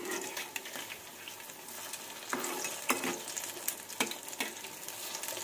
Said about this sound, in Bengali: চলুন বন্ধুরা আস্তে আস্তে সব পকোড়াগুলোকে আমি ভেজে নিই।